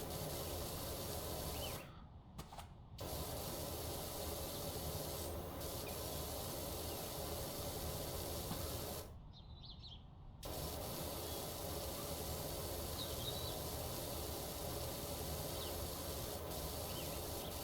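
In PowerWash Simulator, a pressure washer sprays in a steady, loud hiss that runs almost continuously, broken by two short pauses where the nozzle is released.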